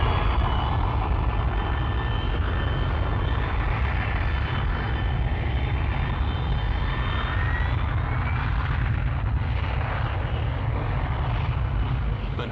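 Kestrel jump jet engine roaring steadily and loudly throughout, a continuous close, broadband thrust noise with a faint whine riding on top.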